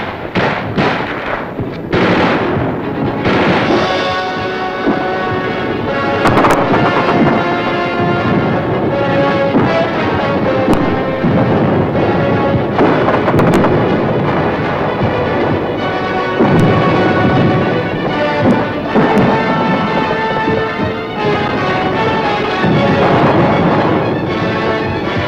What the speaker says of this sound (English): Gunfire roared in the streets and panic spread throughout the population.